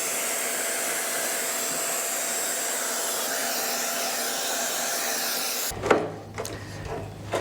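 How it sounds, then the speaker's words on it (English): A shop vac fitted with a small brush attachment sucks dust off a dehumidifier during its yearly cleaning, a loud, steady, close roar that runs unbroken for about six seconds, then cuts out abruptly into quieter scraping and handling noises, with no talking. "I just put a little brush on the front of my shop vac."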